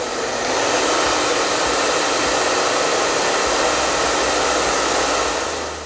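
Xpoliman hair dryer blowing at its maximum speed setting, a steady, loud broadband whoosh of motor and airflow that holds constant throughout with no voices.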